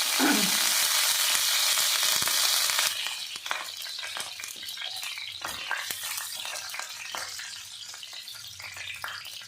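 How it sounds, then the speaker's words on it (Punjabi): Oil sizzles loudly at first as a dal tempering with cumin begins, then settles into a steady frying crackle with occasional stirring scrapes, close by. "ਇਧਰ ਅਸੀਂ ਦਾਲ ਦਾ ਤੜਕਾ ਤਿਆਰ ਕਰਦੇ ਹਾਂ"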